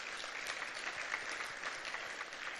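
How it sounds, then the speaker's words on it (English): Applause from a gala audience, a soft, distant, continuous patter of many hands clapping at a fairly even level, with no voices above it. "It's worth applauding."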